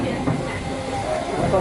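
A historic train with an old railcar rolling on rails, a steady broadband rumble and hiss of wheels and carriage throughout, with people's voices mixed in the background.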